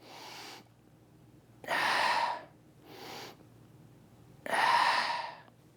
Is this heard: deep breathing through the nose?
yes